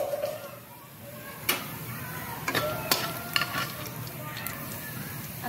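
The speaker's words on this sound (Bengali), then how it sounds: "তো এর মধ্যে আমি তেজপাতা আর শুকনো লঙ্কা দিয়ে দিলাম, আর দিয়ে দিচ্ছি একটু গোটা জিরে।" Bay leaf, dried red chillies and whole cumin seeds fry in already-hot oil, a low steady sizzle under a few sharp clinks and stirring knocks from the pan.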